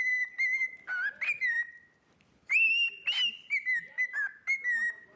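A pet bird whistles a theme from Star Wars in clear, pure tones, phrasing the melody in short bursts with a brief pause midway, close and alone without talk.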